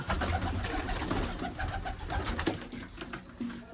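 Pigeons coo and murmur close by in a loft or rooftop coop, soft repeated low calls overlapping in a steady chorus with faint rustling and no talk.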